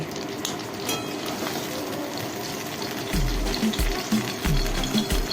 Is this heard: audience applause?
no